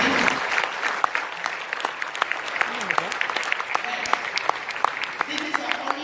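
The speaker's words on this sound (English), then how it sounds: "So I would like to give a round of applause to our mentor" An audience applauds their mentor, Dr. Muhyiddin, with steady, sustained clapping that fills the room at moderate loudness. Scattered sharper claps stand out within the crowd sound.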